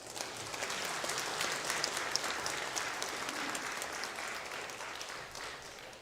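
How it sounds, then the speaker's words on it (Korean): Warm applause from a church congregation welcoming a missionary, steady clapping filling the room throughout. "우리 선교사님 나오실 때 강림의 따뜻한 박수로 환영해 주시기 바랍니다."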